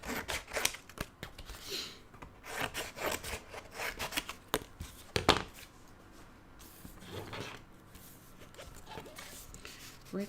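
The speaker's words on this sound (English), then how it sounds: "where's my cardboard? From a piece of, what is it? A piece of cereal box. I'm going to cut out the cover." Scissors cutting a cover out of thin cereal box cardboard, uneven bursts of close, raspy crunching and slicing with short pauses between the cuts.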